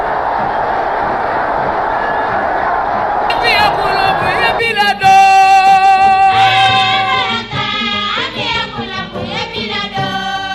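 Stadium crowd at Conakry's 28 September Stadium cheering as the Revolution's supreme leader Sékou Touré enters in 1977: a loud, dense roar of massed voices, followed by strong musical tones and singing over the continuing crowd noise.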